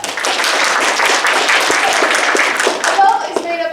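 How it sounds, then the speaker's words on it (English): A live audience claps for a volunteer at a presentation, dense continuous clapping close and loud throughout, fading slightly at the end. "Everybody clap for Bella."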